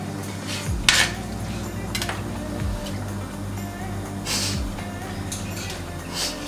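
Pots and pans clattering while rice is cooked in a saucepan in a kitchen, with sharp metallic clinks and scrapes over a low background hum and occasional faint sliding tones.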